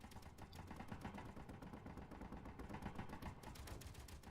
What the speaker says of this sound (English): Because I can hear the gunfire.